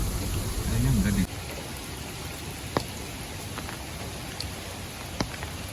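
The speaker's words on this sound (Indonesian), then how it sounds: "Hujan guys, jadi pakai payung." Steady rain falls at an outdoor safari park near Bogor, a constant broadband wash with a few sharp drips landing on a surface, starting after a brief louder rumble.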